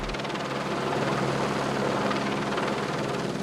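Helicopter hovering steadily while installing stadium lighting masts at Stade Barina, a loud continuous rotor and engine drone with no talk.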